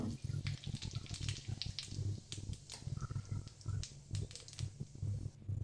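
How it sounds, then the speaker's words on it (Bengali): Bay leaf and whole cumin seeds sizzle in hot oil in a kadai after fish heads were fried, a quiet crackling spatter of irregular pops and hisses. "কড়াইতে আর একটু তেল দিয়ে এর মধ্যে দিয়ে দেবো তেজপাতা আর গোটা জিরে ফোড়ন"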